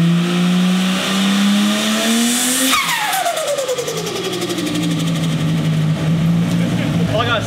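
A turbocharged VL car revs hard and lets off, its turbo fluttering through a 3-inch copper dose pipe with a short, very high-pitched chatter, loud and close, then the engine climbs again.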